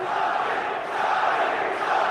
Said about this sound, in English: And the crowd are responding fiercely.